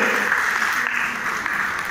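Wedding guests at a Christian wedding reception clap together in steady, dense applause that fills the hall, loud and continuous throughout.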